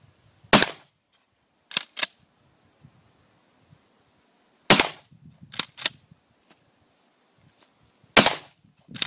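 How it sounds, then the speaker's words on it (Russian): Hatsan Escort Aimguard 12-gauge pump-action shotgun firing buckshot outdoors: three loud, close blasts spaced a few seconds apart, each followed by the clack of the pump action being worked, with near silence between. "Ну что ж, приступаем к стрельбе картечью."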